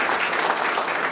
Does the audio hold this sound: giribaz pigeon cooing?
no